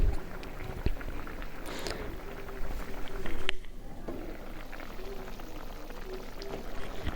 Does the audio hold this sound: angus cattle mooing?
no